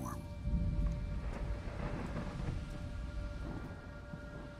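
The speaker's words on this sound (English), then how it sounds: "And then came the storm." A thunderstorm with rain: steady loud downpour with low rolling thunder rumbles throughout, no voices.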